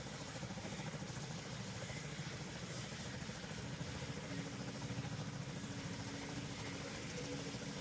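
A helicopter in the video game PTFS flies with a steady, continuous rotor and engine drone, fairly faint and even throughout.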